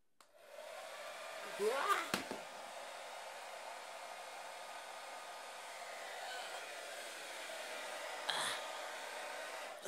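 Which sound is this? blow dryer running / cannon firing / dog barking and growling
blow dryer running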